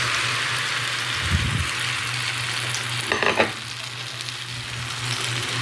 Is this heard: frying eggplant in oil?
yes